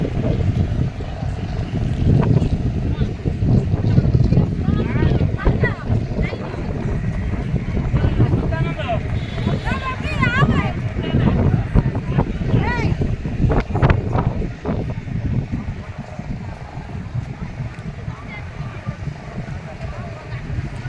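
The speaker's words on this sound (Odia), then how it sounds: "ଏଠି ଆପଣଙ୍କର ମାଛ ଧରିବାକୁ ଯାଉଛନ୍ତି ଯେଉଁ ଡଙ୍ଗାରେ କେମିତି ସବୁ ଡଙ୍ଗା ମାନେ ଅଛି ଦେଖନ୍ତୁ" Fishing boats at a seaside landing give off a steady low engine drone and water noise, with wind buffeting the microphone. Someone talks over them throughout.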